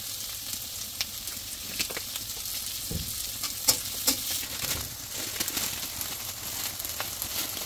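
Vegetables sizzling in hot mustard oil with tomato in a pan, a steady close frying hiss broken by stirring scrapes and small pops.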